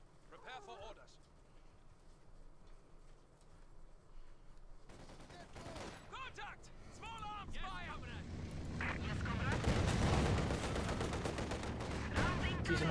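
In Company of Heroes 2, a T-70 light tank fires on Volksgrenadiers amid scattered small-arms bursts and blasts that grow louder and denser toward the end, under continuous commentary.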